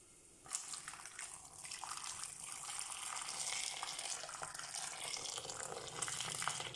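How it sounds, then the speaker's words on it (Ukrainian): Boiling water pours steadily over three scored tomatoes, starting abruptly and continuing as a loud, close, continuous splashing stream for several seconds with no talk. "Для цього ми робимо надріз на кожному з них і заливаємо кип'ятком."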